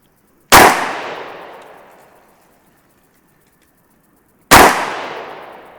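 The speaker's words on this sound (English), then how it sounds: "Do you want to just shoot mine with the modified grip a little bit, just 5 rounds" Two loud, sharp shots from a Glock 20SF 10mm pistol at an outdoor range, spaced about four seconds apart, each with a long echoing decay.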